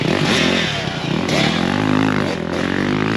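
Several dirt bikes ride a private motocross track, their engines droning loudly and continuously and rising and falling in pitch as the riders accelerate and back off. The sound is steady and fairly close, with no pauses.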